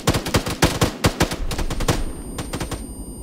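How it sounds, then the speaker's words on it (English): Rapid bursts of automatic gunfire in the military video game Arma 3, loud and close, with sharp repeated shots that break into irregular volleys and fade into a short pause near the end. "Alright, open fire."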